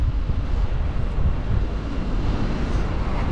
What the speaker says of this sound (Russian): Ветер прохладный такой.